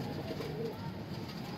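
A pigeon gives a soft, low coo nearby, a brief murmur over a faint steady background.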